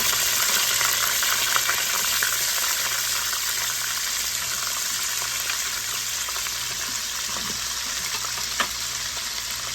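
Peppers fry in about two tablespoons of butter in a pan, giving a loud, steady sizzle with no talking over it, as onion for cabbage and sausage is about to go in.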